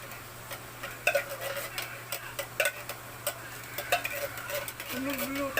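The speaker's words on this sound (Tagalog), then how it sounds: "Yung ating mais. Haluin na natin yan." Corn being stirred in a cooking pan for maja blanca, a Filipino coconut-corn pudding, giving soft scraping and light clinking taps at an irregular rhythm, close by, with faint kitchen background and occasional voice sounds.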